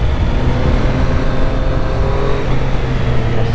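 A 2021 Triumph 765 RS motorcycle climbs a hill, its engine giving a steady, loud, continuous drone with rumbling low tones and no voices over it.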